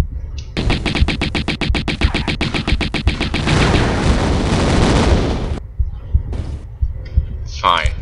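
Rapid gunfire from Lara in the Tomb Raider video game, a loud fast burst of shots that blurs into a dense roar for a few seconds, followed by a couple of fainter game effects.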